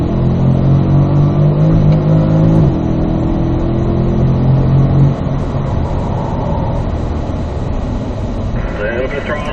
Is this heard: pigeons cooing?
no